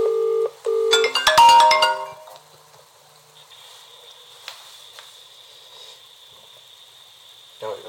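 An Avire Memcom emergency phone dials in rapid electronic beeps, followed by a thin steady ringing tone that continues faintly for several seconds while waiting for an answer.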